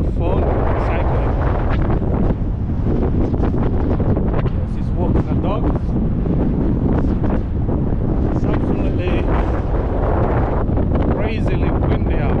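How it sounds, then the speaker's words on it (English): Strong gusting wind buffets the microphone on Blackpool promenade, a loud constant roar with someone talking over it. "crazily windy out there, man."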